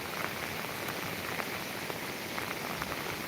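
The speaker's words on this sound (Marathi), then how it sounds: "ही जी पावसाची सर आहे ती अगदी मुसळधार पावसासारखीच ही सर आहे" Heavy monsoon rain pours down at Koyna near the river, a dense, steady hiss of drops with no letup, loud and even throughout.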